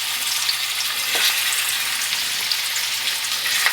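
A lamb chop frying in hot beef tallow in a full aluminum pan that is not non-stick, giving a steady close sizzle with scattered small pops and crackles and no voices.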